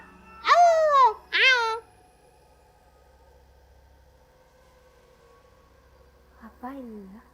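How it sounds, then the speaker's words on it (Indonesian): Two drawn-out cat meows close together, then a quieter, shorter meow after a long near-silent pause, set in an abandoned house. "Ngeong lagi."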